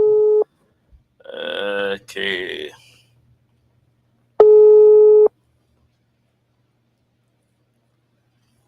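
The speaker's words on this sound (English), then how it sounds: "His phone is ringing." Telephone ringback tone while calling a CDC chairman: two steady repeating tone bursts, one at the start and one later, with a man's short spoken remark in between.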